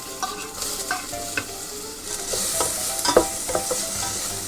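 Onion and garlic frying in oil, a continuous bright sizzle with scattered scrapes and taps of a utensil stirring, close up and without talk.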